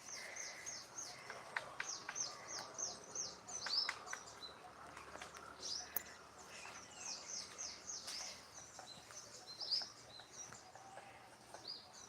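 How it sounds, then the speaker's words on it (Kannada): Birds chirp faintly all around, short repeated tweets scattered across a quiet outdoor background. "ನೋಡಿ ಎಲ್ಲ ಕಡೆ ಪಕ್ಷಿಗಳು ಶಬ್ದ ಮಾಡ್ತಾ ಇದೆ"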